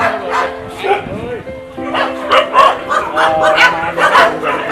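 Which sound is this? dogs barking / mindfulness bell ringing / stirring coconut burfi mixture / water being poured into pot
dogs barking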